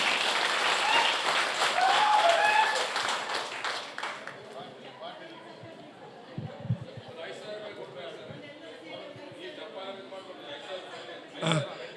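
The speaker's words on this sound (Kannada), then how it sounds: "ಜೋರಾಗಿ ಅವರಿಗೆ ಒಂದು ಚಪ್ಪಾಳೆಯನ್ನು ತಟ್ಟಿ" Audience applause at a civic workers' day ceremony held by a city municipal council, a dense burst of many hands clapping together that fades out, with someone speaking over it and some talk afterward.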